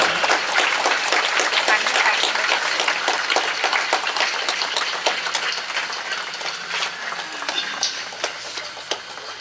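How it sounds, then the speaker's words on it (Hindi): Audience applause at a church jubilee celebration at St. Mary's Catholic Church, Olhain: loud, sustained clapping from a crowd that slowly tapers off over several seconds. "और एक बार ताली मारो।"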